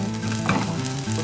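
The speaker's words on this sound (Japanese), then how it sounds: "ジュージューとしていたご飯が少しパチパチという音になってきています。" Close crackling and popping over a steady sizzle of fried rice in a hot frying pan, continuous with no voices.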